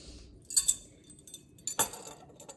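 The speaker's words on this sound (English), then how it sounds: "let's take a real measuring teaspoon" A metal measuring teaspoon is handled, giving two short bright clinks of light metal, close and clear, separated by quiet.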